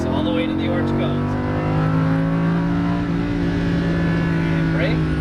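A Lamborghini Huracan engine on a race track drones steadily with low, rising and falling tones, close and loud, while a voice talks over it throughout.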